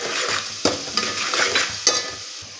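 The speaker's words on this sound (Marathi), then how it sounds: "आता हा कांदा पूर्ण लाल कलर होईपर्यंत चांगला परतून घ्यायचा आहे।" Chopped onion sautés in a pan for spicy Kolhapuri misal. A close, loud sizzle runs under sharp spoon-on-pan scrapes and knocks that land every half second or so.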